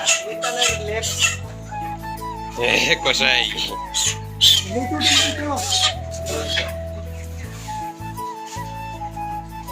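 A chicken squawks and clucks in sharp bursts amid a steady electronic tone and people talking nearby.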